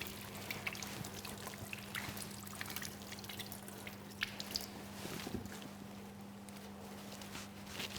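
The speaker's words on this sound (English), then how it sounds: "So I'm using the hand soap with hot water." Hands are washed with hand soap under running hot water at a food preparation area: a soft, steady trickle and splash of the tap over a low electrical hum, with no talking.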